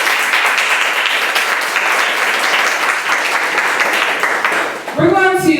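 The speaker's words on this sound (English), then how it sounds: "We gotta give them a round of applause." Sustained audience applause at a survivor story monologue event fills the room loudly and steadily, with a host's voice breaking in near the end.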